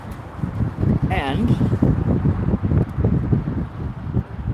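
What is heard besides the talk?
wind blowing outdoors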